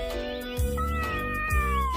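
A stray cat meows repeatedly in clear, close, drawn-out cries that rise and bend in pitch, two slightly louder bursts standing out, with no talking over it.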